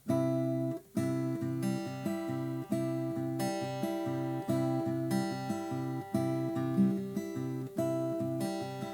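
A fingerstyle guitar repeats a quick, rolling chord pattern with steady plucked notes and bright accents on each beat, played alone and close.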